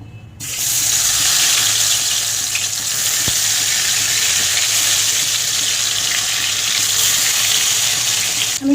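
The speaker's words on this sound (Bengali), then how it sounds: "আমি বেগুনগুলো একসঙ্গে ভেজে নেব" Eggplant pieces fry in hot oil in a wok, a steady loud broadband sizzle that holds evenly from start to finish with no talk.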